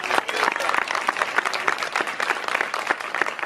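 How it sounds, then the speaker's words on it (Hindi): Dense, continuous clapping from a crowd at a church gathering rolls on steadily and loudly the whole time. "जोरदार तालियां।"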